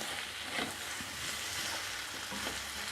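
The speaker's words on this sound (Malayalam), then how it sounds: "ഇനി നന്നായി ഒന്ന് ഇളക്കി കൊടുക്കണം." Beef with pepper powder sizzles in a frying pan for a Kerala-style beef roast, a fairly quiet, continuous hiss with faint stirring scrapes throughout.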